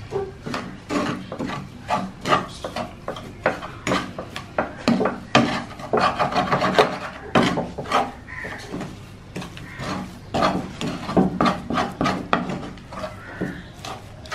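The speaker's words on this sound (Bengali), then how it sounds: "লো হিটে দিয়ে বারবার করে নেড়ে নিতে হবে।" Halwa with sugar and a pinch of salt is stirred in a pan over low heat, giving a steady run of rasping, scraping strokes of a spoon against the pan bottom, close and continuous, with no talking.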